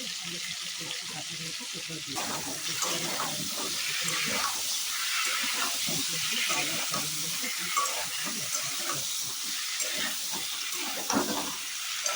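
Water poured into a hot pan of reddened spices and vegetables for khichuri hisses and bubbles in a steady steamy wash, with faint stirring and a voice talking at times.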